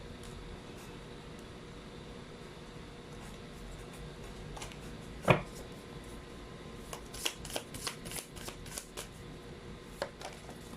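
Tarot cards are handled and shuffled nearby: one sharp slap, then a loose series of soft flicks and taps over a steady low room hum, with no talking.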